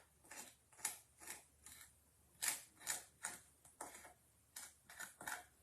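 Repeated soft scraping strokes of a tool spreading stencil paste across a surface, about a dozen short rasping passes in an uneven rhythm, close and quiet.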